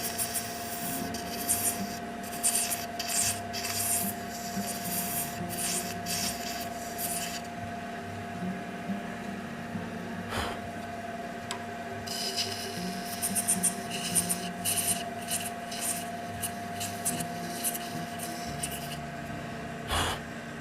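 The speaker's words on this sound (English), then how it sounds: "and then we'll start to sand." Sandpaper rubs against a turned shaving brush handle spinning on a wood lathe, a steady close rasping hiss over the constant motor hum, broken by a few brief pauses.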